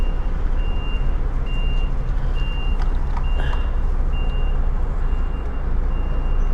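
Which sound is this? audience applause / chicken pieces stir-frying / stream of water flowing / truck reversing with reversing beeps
truck reversing with reversing beeps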